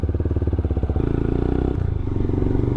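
A Taro GP 1 V3 motorcycle with a Lifan NBF2 engine pulls away at the start of a ride, its single-cylinder engine chugging in a fast, close, even pulse that rises slightly in pitch as it moves off.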